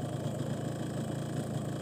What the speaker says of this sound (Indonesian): Dan ini adalah sampel suara saat mesin sudah panas